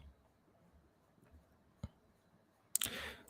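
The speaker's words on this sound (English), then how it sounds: "Oops, my phone fell down." A phone drops and lands with a sharp knock, then a brief clattering burst as it hits the surface, close up in an otherwise quiet room with no talk.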